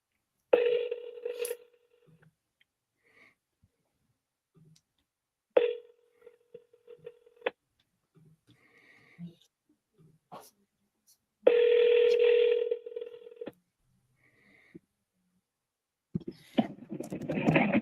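A telephone is dialed twice: a quick burst of touch-tone beeps near the start, a quiet stretch with faint clicks, then a second longer run of dialing tones. Sounds pick up at the very end.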